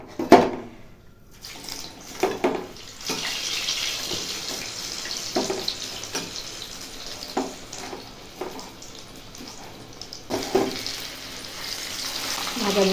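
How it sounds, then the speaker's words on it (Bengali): Fish frying in a pan in a home kitchen: a soft, steady sizzle runs throughout, broken by a few sharp clatters and stirring knocks, with no talk. "মেয়ের জন্য এখন মাছ ভাজা করে নেব"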